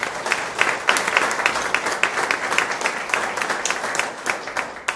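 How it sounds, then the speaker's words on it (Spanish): A church congregation claps together in a steady, dense round of applause that holds for about five seconds and then tapers slightly, with no talk over it. "Den un aplauso al Señor de la iglesia."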